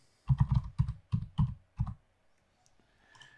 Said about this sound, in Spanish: Y nos vamos a colocar acá entonces el correo, la contraseña